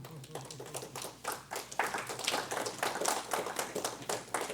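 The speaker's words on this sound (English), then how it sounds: "I think they're clapping for Mel, Clyde." An audience at a lecture on Southern culture claps, faint individual hand claps in an uneven patter, heard at a distance beneath someone speaking.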